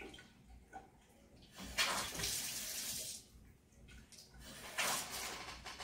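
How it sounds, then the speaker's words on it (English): Water pours into a graduated cylinder in a chemistry demonstration, two bursts of splashing, gushing flow separated by a quieter pause, heard close and fairly soft. "if I were to put one mole of water molecules into this graduated cylinder right here"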